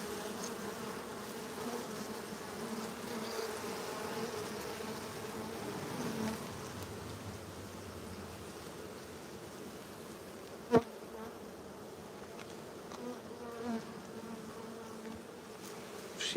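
Honeybees hum in a dense, continuous drone across a hive frame as a young bee emerges from its cell, steady and close, with a single sharp click partway through.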